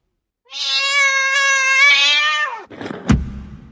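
A cat lets out one long, loud, drawn-out meow with a clear wavering tone, followed by a brief shuffle and a sharp thump, in a sound effect for an English story.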